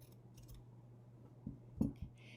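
Scissors snip through a knit fabric sock at the heel, a few faint, quiet cuts spread over a couple of seconds against a soft background hum.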